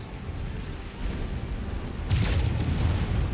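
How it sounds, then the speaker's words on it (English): A deep, rumbling boom of an explosion in MechWarrior 5 swells suddenly and lingers as a heavy low roar beneath continuous battle noise, loud and close, with no voices. "Ooh, explosion."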